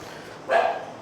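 A Labrador in a kennel at a pet boarding facility in Bangalore lets out a single loud, close bark midway through, with quiet room tone before it.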